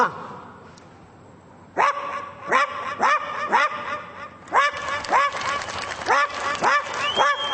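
A voice imitates the barking of a poor household's dog, a silent stretch then a run of about a dozen sharp, rhythmic barks, loud and close, ending with a brief whistle-like whine.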